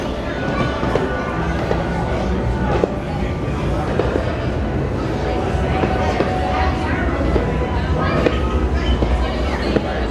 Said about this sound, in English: There's the Hogwarts Express.